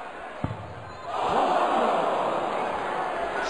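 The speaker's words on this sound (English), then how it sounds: "Crowd gasp." A darts arena crowd at a 2009 Premier League match lets out a sudden swelling gasp that hangs as a broad sustained murmur, preceded by a single sharp thud.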